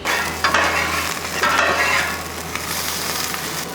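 Onions hit a hot pan and sizzle loudly and steadily, with a bright crackling hiss that swells in bursts as they are stirred, all without talk.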